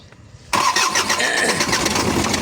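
A car engine cranks and catches abruptly, settling into a loud, steady, rough idle that sounds close by with no talking over it.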